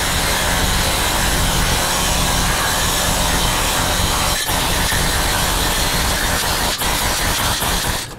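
An air shaper power head hammers a flat aluminum sheet into a bowl shape with a loud, continuous, rapid buzzing clatter that holds steady throughout and is close up, with no voices.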